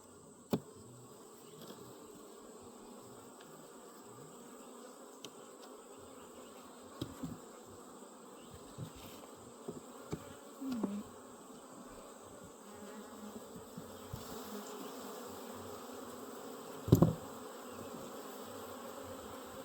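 Honeybees in an open hive hum faintly and steadily close by, with a few soft knocks and one brief louder buzz near the end.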